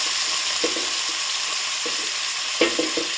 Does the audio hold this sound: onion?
yes